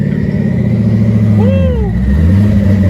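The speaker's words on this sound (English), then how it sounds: "Well, it has a loud turbo." A Chevrolet Camaro with a loud turbo idles with a heavy, steady rumble, and a short whistling turbo spool rises and falls over it near the middle, loud and close, with a little voice in the background.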